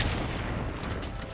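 Gunfire in The Outer Worlds 2 video game, a dense loud burst of shots filling the short moment with a sharp crack at the onset.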